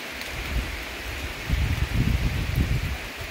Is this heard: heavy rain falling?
yes